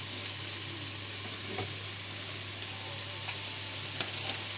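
Chicken sizzles in a hot pan, a close, continuous frying hiss with a few small pops and crackles and no voices.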